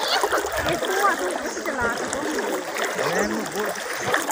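River water splashing and gurgling steadily around a boat crossing a river, close and continuous. Voices talk now and then over the sound of the water.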